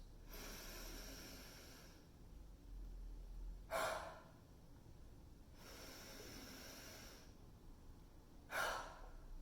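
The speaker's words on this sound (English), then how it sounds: "starting with max inhale, reflexive exhale. In through the nose." During a mobility exercise session, a person takes two slow cycles of deep breaths, each a long inhale through the nose followed by a sharper, louder exhale, heard close but quiet with no talking.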